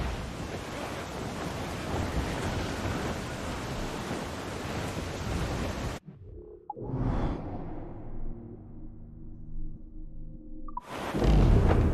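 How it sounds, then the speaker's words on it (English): Strong wind and crashing sea waves at sea in Assassin's Creed IV Black Flag, a loud continuous roar that cuts out midway to a brief quieter stretch with a tonal sweep, then surges back. "Wind is shaping up for a big blow, sir!"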